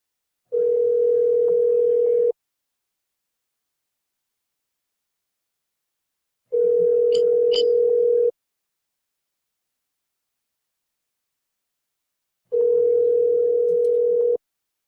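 Outgoing telephone ringback tone heard while placing a call, three long steady tones evenly spaced by about four seconds of silence, loud and clear with no talk.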